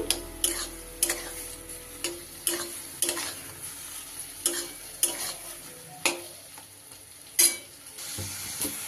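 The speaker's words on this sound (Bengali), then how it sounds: "এবার দিয়ে দেবো ওই ভেজে রাখা সোয়াবিন খুব ভালো করে এর সাথে মিশিয়ে নেব" A spoon scrapes and stirs fried soybean chunks through a poppy-seed chutney mixture in a pan over low gas. Rhythmic scraping strokes come roughly once a second over a soft, continuous sizzle, close up with no talking.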